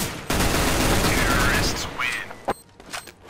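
A burst of rapid gunfire rings out in the video game Counter-Strike: Global Offensive, loud and continuous for about two seconds before trailing off into smaller clicks and thuds.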